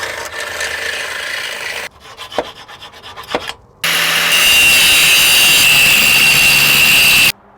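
A power grinder works a metal washer for a Toyota 4Runner leveling kit, first in short scraping bursts, then in a sustained, loud, high grinding run that stops abruptly near the end.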